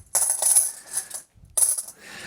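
Silver quarters from a freshly unboxed coin roll clink and jingle together in two bright metallic bursts with a short silent gap between them, close and clear with no talking.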